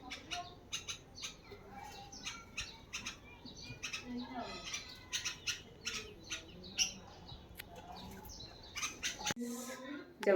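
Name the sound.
bulbul bird calling while bathing in its pool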